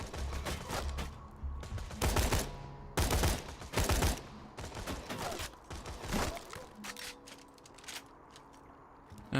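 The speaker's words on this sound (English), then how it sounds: "Just starting to realise the sniper rifle is really rather powerful" A sniper rifle fires in Borderlands 2: about five loud, sharp cracks at irregular intervals, each followed by a short ringing tail, with quieter game sounds between them.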